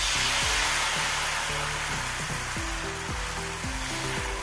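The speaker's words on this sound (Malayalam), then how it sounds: "ദോശ വെന്ത് വരുന്നുണ്ട്" A thin rice flour dosa cooks on a hot tawa with oil, giving a steady, close, hissing sizzle throughout, with a background tone sounding over it and no talking.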